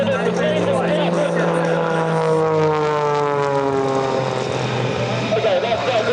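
An F-22 fighter jet passes at an air show, its loud engine roar sliding downward in pitch as it goes by, with people talking over it.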